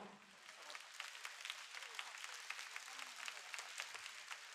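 Concert audience clapping in a large venue at a countdown show: a steady, fairly distant spread of applause with many individual claps, faint and continuous for several seconds.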